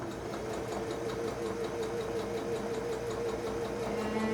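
A sewing machine runs steadily as it stitches, a close, even mechanical whir with a rapid rhythmic needle chatter that continues without pause.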